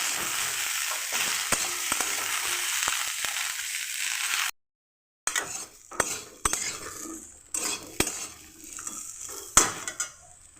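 Potatoes frying in a pan with steady sizzling, then scraping and clinking of a utensil stirring them in short, irregular strokes, close and fairly quiet.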